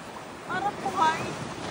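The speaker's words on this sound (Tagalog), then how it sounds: "Parang buhay yung dagat dito." Ocean surf on a beach while on vacation, a steady windy wash of waves with a gentle swell, heard close to the microphone under wind noise.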